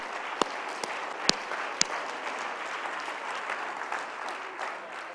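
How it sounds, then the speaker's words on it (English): A church congregation claps hands during a sermon, a dense wash of applause with a few sharp, louder claps standing out near the start, continuous and moderately distant, with no talking over it. "Would you clap your hands to the Lord?"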